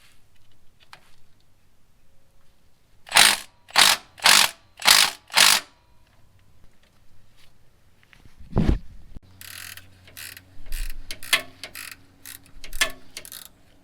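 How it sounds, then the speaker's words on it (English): A hand ratchet loosening the bolts on the AC tensioner and idler pulley of a 2002-2005 Toyota 4Runner, heard as four loud, close ratcheting bursts, then a thud and a longer run of quicker, fainter clicking strokes. "We need to loosen the AC tensioner and idler pulley here with these 2 bolts."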